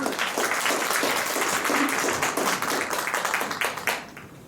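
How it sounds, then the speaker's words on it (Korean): Spectators at a poetry recitation contest within an arts festival applaud to open a performance, a steady, moderately distant round of clapping that fades out abruptly near the end. "여러분의 응원의 박수로 시작하겠습니다."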